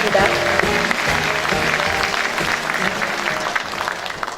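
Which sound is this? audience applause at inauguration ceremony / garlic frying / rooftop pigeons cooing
audience applause at inauguration ceremony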